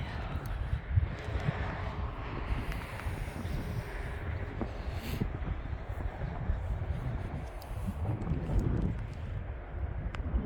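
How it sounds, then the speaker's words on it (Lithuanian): Gusty winter wind in snowy weather buffets the microphone with a low, rumbling roar that swells and eases, with occasional faint knocks. "Nu, vėjas toksai nemalonus."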